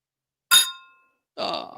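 Beer glasses meet in a toast with one bright, ringing clink that decays quickly, followed a moment later by a short rough vocal sound, with no talk.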